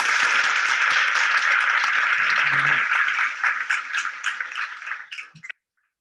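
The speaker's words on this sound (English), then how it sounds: "let's give you one more round of applause" Applause in an online Zoom meeting: a sustained, fairly loud burst of clapping that thins out and cuts off abruptly, with a brief voice partway through.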